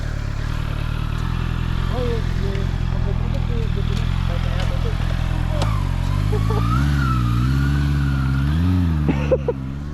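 A motorcycle engine revs and pulls away in a sustained, loud drone with rising and falling pitch sweeps, heard close and continuous, with a brief sharp knock near the end.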